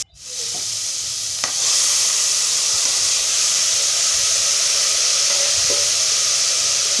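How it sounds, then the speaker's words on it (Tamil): Ginger garlic paste hits hot oil in a pan after the tomatoes have softened, for a tripe (kudal) curry, bursting into a loud, steady hiss that settles into continuous sizzling with a few faint clinks. "தக்காளி நல்லா வதங்கினதுக்கப்புறம் இஞ்சி பூண்டு பேஸ்ட்டை அரைச்சி சேர்த்துக்கலாம்"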